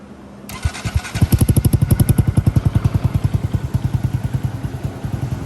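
A 2022 Honda Grom with a cheap aftermarket exhaust fires up and idles with a loud, rapid, rhythmic exhaust pulse, a steady throaty putter that continues throughout.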